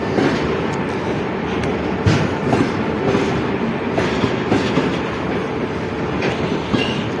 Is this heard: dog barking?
no